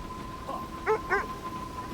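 A sled dog in the video game Kona II gives two quick, high yips close together, heard over a low steady hum and faint ambient noise.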